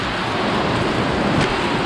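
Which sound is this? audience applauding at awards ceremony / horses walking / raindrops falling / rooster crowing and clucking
raindrops falling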